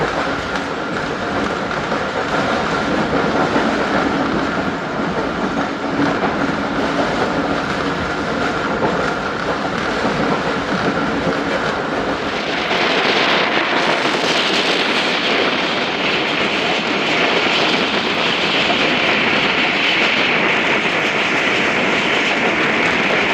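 A train runs along railway tracks near Karachi, its steady rumble and rattle loud and continuous throughout, with a brighter hissing, clattering layer building in the second half as the cars roll past close by.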